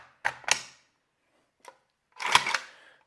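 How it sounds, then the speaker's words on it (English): Zastava ZPAP M70 rifle handled up close: sharp metallic clacks of the bolt and action, a pair of quick snaps, a faint tick, then a louder double clack as the bolt slams forward. "if you want to let the bolt slam forward, you just pull that mag out."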